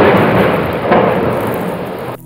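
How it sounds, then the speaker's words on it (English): A thunder sound effect for a Macbeth reading gives one sustained, loud rumbling roll that swells slightly near the middle and holds steady for about two seconds before cutting off abruptly, with no voices over it. "and sleep in spite of thunder"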